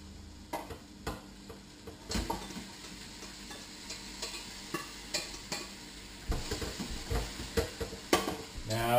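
Edamame and mung bean fettuccine is stirred into warm pesto in a pan, giving soft intermittent scraping and utensil clinks over a faint sizzle, close up and fairly quiet.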